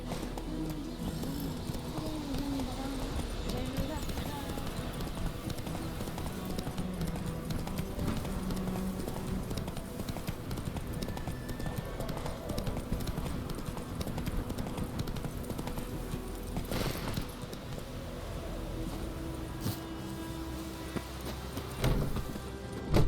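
A horse gallops steadily through The Witcher 3, its rhythmic hoofbeats running continuously under faint game ambience, with a brief thump near the end.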